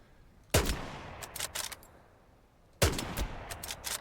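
Gunfire in the World War II shooter Hell Let Loose: two sharp, loud shots about two seconds apart, each followed by a few quicker cracks and rolling echoes at range.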